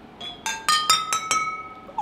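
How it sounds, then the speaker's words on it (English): A plastic spoon lightly taps a row of water-filled glasses, five clear ringing chimes in quick succession, each leaving a bright sustained tone that overlaps the next, close and without talk. "Now I'm going to use a plastic spoon to lightly hit the glasses."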